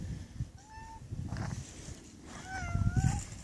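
A young kitten gives two thin, rising meows, the second longer and wavering, while a person keeps speaking softly to it.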